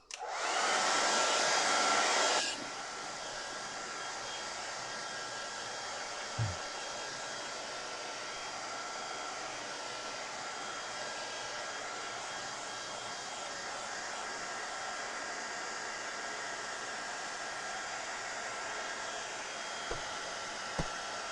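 A hair dryer dries a watercolour painting. It starts with a loud, harsh blast for about two seconds, then settles into a softer, steady whir that runs on for the rest of the clip, with a few faint knocks and no talking.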